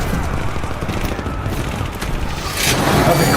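Sustained, dense machine gun fire rattles on without pause in a loud action-film battle scene, rising slightly toward the end.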